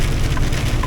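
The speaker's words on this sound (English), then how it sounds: "The pea-sized hail." Pea-sized hail in a storm pelts a car while driving, a dense, loud, constant drumming rattle across the roof and windshield with no talk.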